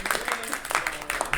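Brief, scattered clapping from a small group of high school club members on a podcast, a few uneven claps and a cheer, fairly quiet and close.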